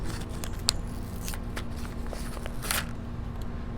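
A paper seed packet for garden herbs is torn open by hand, giving a few brief crisp rips and rustles close by over quiet background hum.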